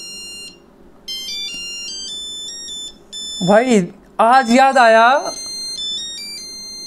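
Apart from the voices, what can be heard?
phone ringtone in a video game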